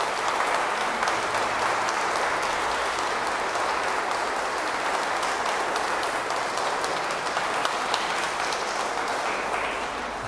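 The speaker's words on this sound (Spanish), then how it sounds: "Vamos a darle un fuerte aplauso." Wedding guests applaud loudly and steadily for the couple, a dense unbroken wash of many hands clapping that holds for the whole stretch without any talk.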